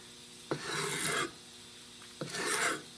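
A hand plane shaves a wooden stock for a Winchester 1876 Centennial rifle in two quick rasping strokes, close and fairly quiet, with a short pause between passes.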